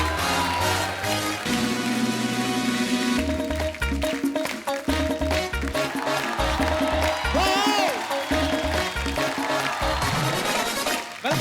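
Studio audience at a Hindi comedy talk show claps loudly for the arriving guests, actor Vicky Kaushal and director Shoojit Sircar, a steady dense patter mixed with a band's loud, upbeat entrance music.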